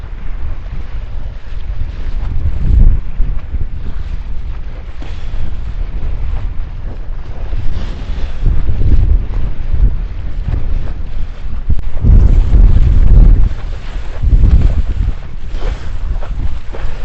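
Strong wind roars across the open ocean during a parawing downwinder, buffeting the microphone with steady noise and surging gusts, and water and wave wash blends underneath.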